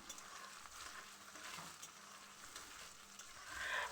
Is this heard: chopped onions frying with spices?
yes